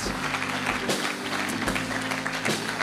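An audience bursts into steady applause to welcome a team at a live show in Frankfurt, a dense wash of clapping heard throughout, close and fairly loud.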